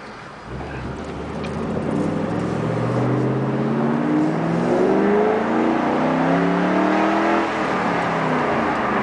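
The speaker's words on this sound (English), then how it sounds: "Pretty loud for a stock exhaust." A Shelby GT500 KR with a six-speed and a factory Shelby-tuned exhaust revs hard nearby. The engine note climbs and swells as the revs rise, then holds loud and throaty for several seconds.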